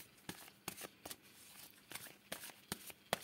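Oracle cards for a love reading are shuffled by hand in a series of soft, rhythmic riffling slaps, close and quiet, with no talking.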